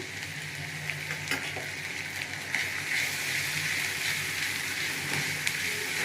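Ginger garlic paste frying in oil, a dense continuous crackling sizzle heard up close with occasional faint stirring clicks, no talk.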